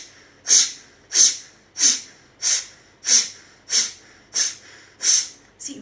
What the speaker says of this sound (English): with your left nostril throw out 10 forceful breathe out, exhale 10 times forcefully